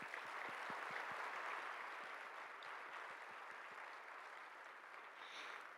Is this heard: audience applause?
yes